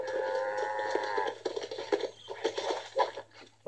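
A cow in the video game Red Dead Redemption gives a long, clear moo for over a second, followed by patter and clattering game sounds, close and moderately loud.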